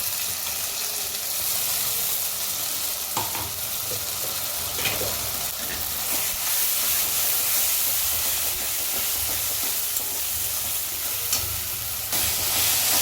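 Onion frying with ginger-garlic paste in a pan for chicken curry, a constant loud sizzle and hiss with occasional scraping stirs and light knocks running throughout.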